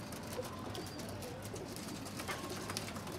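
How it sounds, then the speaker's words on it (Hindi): A golden pigeon coos softly among other caged pigeons at a bird sale in Lahore, faint calls over a constant background hum with no talking. "गोल्डन कबूतर है।"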